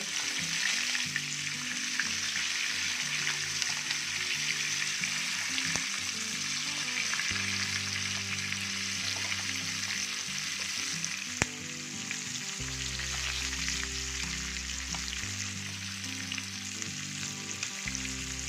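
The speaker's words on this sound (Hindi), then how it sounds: "लो फ्लेम पे करना है फ्राई।" Fish coated in aromatic masala frying on a metal tawa over a low flame, giving a steady, close sizzle throughout with occasional soft stirring or shifting, and no talking.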